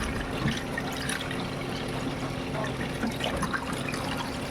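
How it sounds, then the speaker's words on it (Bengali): Bananas washed in turmeric water, with a steady close sound of splashing and trickling liquid running through the whole stretch, no talking. "এই যে হলুদ দিয়ে আমি কলাটা ধুয়ে নেবো"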